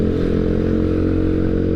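A carbureted motorcycle engine, tuned down to around 53 spec, idles close up with a steady low throbbing rumble and slight mechanical clatter, continuous and loud with no voices.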